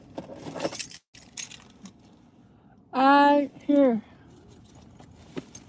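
Keys jangle briefly near the start amid some talk, followed by a loud harmonic whine or squeal in two bursts around the middle, with quiet room noise elsewhere.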